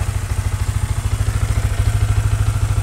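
A motorcycle engine restarted after live tuning settles into a steady idle, its low, even firing pulses close and loud throughout.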